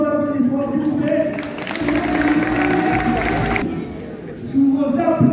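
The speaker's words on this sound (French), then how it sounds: "Un maximum d'applaudissements, s'il vous plaît." Crowd clapping and cheering at a World Catch League wrestling show in Belgium, a broad sustained burst of applause building over a loud room, with an announcer's amplified voice talking before and after.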